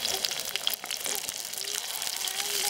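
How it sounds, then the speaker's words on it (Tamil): Green chilies and curry leaves fry in hot oil for Tamil kara kulambu, a continuous crackling sizzle with scattered pops, close and moderately loud. "பச்சை மிளகாயும் கருவேப்பிலையும் சேர்த்துக்கலாம்."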